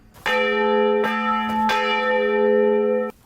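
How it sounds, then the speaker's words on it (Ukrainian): A church bell rings out loudly, several clear strikes with long ringing tones that overlap and sustain, no voices. "Зараз у храмі залишився лише один дзвін."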